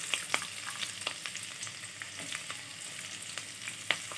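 Steady crackling sizzle of garlic frying in hot oil with green chillies for chilli paneer, with scattered sharp pops and spits throughout, close and moderately quiet.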